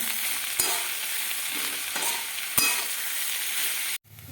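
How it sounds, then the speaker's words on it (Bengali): Potatoes with turmeric and salt fry in a pan, giving a steady, close sizzle with two sharp stirring knocks before the sound cuts off abruptly near the end. "পরিমাণ মতন লবণ দিয়ে ভালো করে ভেজে নেবো নাড়িয়ে দেবো"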